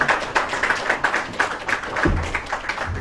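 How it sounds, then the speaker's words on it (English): An audience at an election security meeting with Kenya's electoral commission claps to welcome a government minister to the podium, a brisk, fairly even run of hand claps from a modest crowd. "Please welcome him with a big round of applause."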